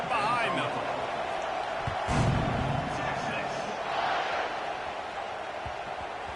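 At kickoff in a college football video game, a stadium crowd sends up a constant, swelling roar of cheers that stays loud throughout while a commentator speaks over it.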